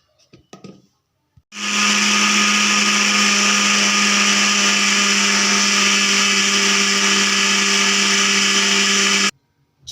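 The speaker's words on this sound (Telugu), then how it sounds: "ఇప్పుడైతే మిక్సీ పట్టేసుకుందాం" A mixer grinder blends washed grapes into juice. A loud, close motor whine starts abruptly after a couple of soft knocks, holds a steady pitch for about eight seconds, then cuts off sharply.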